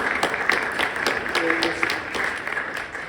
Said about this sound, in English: I just want to give all of you ladies a round of applause for everything you guys do